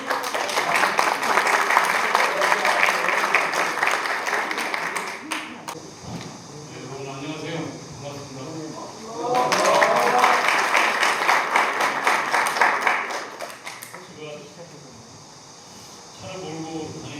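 An audience at a railway workers' union lecture claps in two loud, sustained bursts, with someone speaking over the quieter stretch between them and again near the end.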